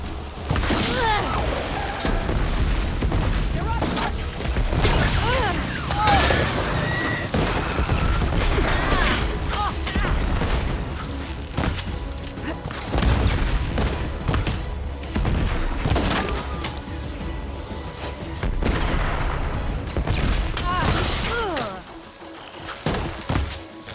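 Gunfire and explosions sound during combat in the video game Horizon Forbidden West, with loud continuous thumps, crashes and shot bursts layered over game music and occasional voices.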